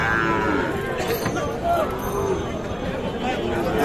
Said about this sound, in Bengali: আমরা দেখি পাশে কিছু গরু আছে।